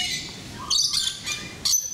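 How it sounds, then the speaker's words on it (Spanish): Parrots in the world's largest aviary in Malaysia give loud, harsh squawks and shrill calls in quick bursts, close by and with no talking. "ya te habrás dado cuenta por los ruidos de los loros"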